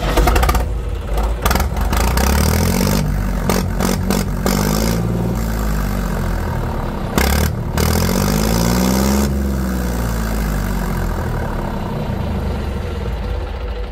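A Panther vehicle's engine is started and settles into a loud, steady mid-pitched idle close by, with a few brief rev swells, running throughout without speech.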